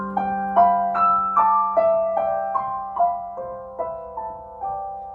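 Piano plays a repeating jazz pattern of quartal-voiced chords, each struck and left ringing, stepping through a steady rhythm of about a dozen hits, clear and alone.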